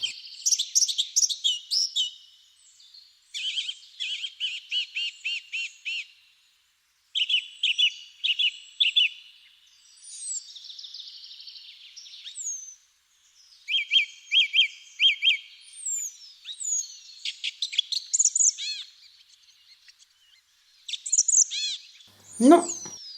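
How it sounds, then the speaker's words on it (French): Several small birds chirp and sing in quiet countryside, with repeated rapid trills and bright whistled phrases coming in bursts separated by short pauses, fairly close and clear, ending with a brief downward-swooping note. "Sauf quelques oiseaux."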